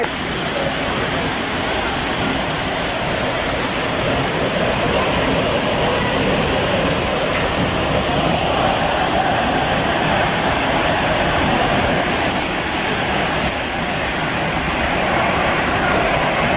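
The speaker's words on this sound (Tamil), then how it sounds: "சிற்றருவி சிற்றருவி சின்ன அருவி சிற்றருவி" Steady, full rushing of falling water from the small Chitraruvi waterfall at Kutralam, loud and constant throughout with no pauses.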